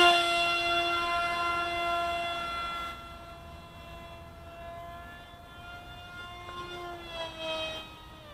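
An RC F-22 pusher jet makes a low pass and climbs out, its high-pitched whining tone loud at first, then fading and shifting in pitch as it pulls away, with a brief swell near the end.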